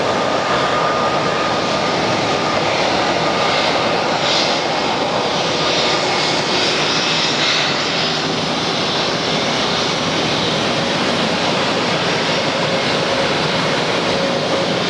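An Airbus airliner's jet engines roar continuously at ATL airport, a loud, broad, steady rushing drone heard from nearby, with no talking.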